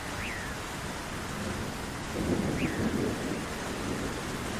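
Heavy rain pours steadily, with a low rumble of thunder building partway through and faint chirps above the downpour; no one speaks.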